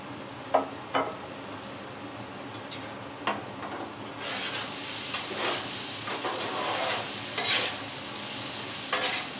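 Vegetables are stirred and scraped with soy sauce on an outdoor hibachi-style teppanyaki griddle top. A few sharp spatula clacks come first, then a steady sizzle builds as the stirring continues, close and fairly loud.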